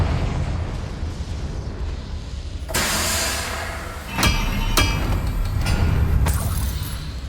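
A Confringo spell detonating in Hogwarts Legacy, a sharp loud burst followed by several more crackling blasts and rumbling booms in quick succession.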